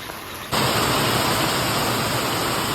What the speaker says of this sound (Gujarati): કેટલો બધો કાંઈક વરસાદ આવી ગયો